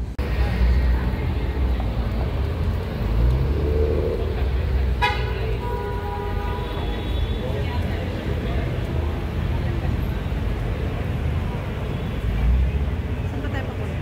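Cars move through a street in Los Angeles under a steady traffic hum, with one horn toot midway. A person talks over the traffic throughout.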